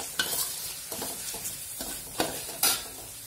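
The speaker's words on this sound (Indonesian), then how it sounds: "Kita tumis lagi sampai harum" Lime leaves, cinnamon and cardamom stirred and sautéing in a pan for vegan soto, a steady close sizzle broken by several sharp scrapes and clinks of a utensil against the metal.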